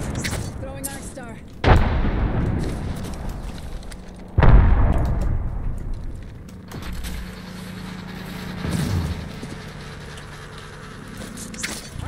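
Grenade blasts and gunfire in a first-person shooter game, with two sharp heavy booms standing out over a steady layer of shots and battle noise, followed by quieter scattered bursts.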